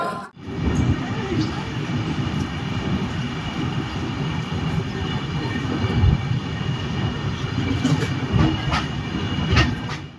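The Cholan Express, a train on a route over a century old, runs on rails with a continuous loud rumble and occasional clacking thumps from the wheels, steady throughout.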